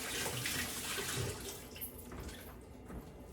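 Tap water runs steadily while hands are washed under it in a home kitchen after handling sticky baguette dough, a continuous close rush with shifting splashes and no talk.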